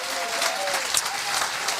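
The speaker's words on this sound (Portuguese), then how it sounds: "Já que é para aplaudir, aplauda." A church congregation applauds during a sermon, a dense, steady wash of many hands clapping at moderate level with a faint sustained tone running through it.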